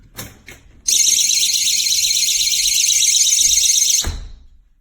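A GE personal security door alarm blares a loud, continuous shrill siren for about three seconds, preceded by a few taps and ending with a thump, heard up close.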